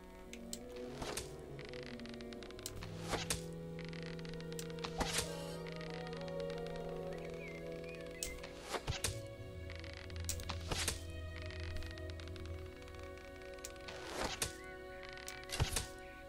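Bow shots in a platform video game, a series of sharp thunks spaced a few seconds apart over a low steady hum and sustained game tones, with no talk.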